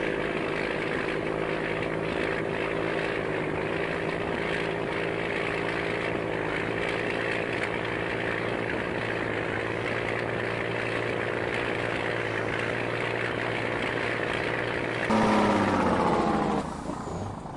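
A heavy tractor engine in Farming Simulator 19 drones steadily at a low, even rumble, then revs up louder and higher near the end before easing off.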